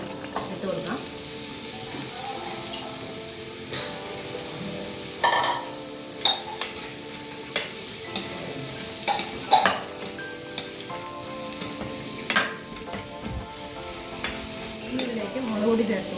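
Snake gourd frying in a pan for a Kerala-style thoran stir fry, a steady sizzle broken by repeated scraping knocks of a spoon stirring against the pan, close and clear with no talking.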